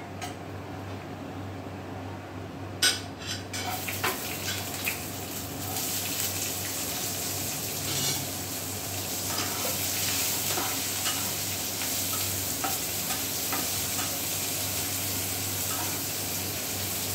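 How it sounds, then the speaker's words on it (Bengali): Chopped onion and garlic sizzle and fry in a wok over hot tempering, with a steady crackle, scraping stirs and occasional clinks of the utensil against the pan. "এবার ফোড়নটা একটু নাড়াচাড়া করে নিয়ে আমরা কেটে রাখা পেঁয়াজ আর কুচনো রসুনটা দিয়ে দেবো কড়াইতে।"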